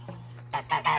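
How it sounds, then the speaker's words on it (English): Angry geese honking loudly in a close burst of several harsh calls that grow stronger toward the end, with a low steady hum underneath. "and the geese aren't a fan of Penny either. Look how angry they are"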